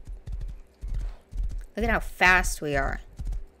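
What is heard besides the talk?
horse galloping in video game Rust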